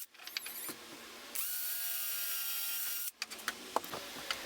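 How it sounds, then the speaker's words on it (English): A power driver whirs steadily for about two seconds, driving screws lightly into plywood, bracketed by short clicks and taps of handling, close and fairly loud with no talking. "So I'm just going in nice and light with the screws"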